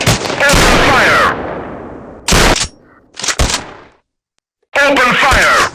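Loud gunfire bursts in a mobile FPS shooting war game, harsh close blasts in short clusters separated by gaps, with in-game voice callouts and groans mixed in.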